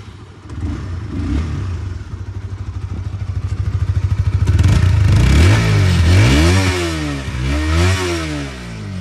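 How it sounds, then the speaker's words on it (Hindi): Stock exhaust of a Honda CBR150R motorcycle, a close, loud single-cylinder putter that rises through repeated revs, climbing and falling in pitch in several blips toward the end. "तो ये थी स्टॉक CBR 150R की साउंड"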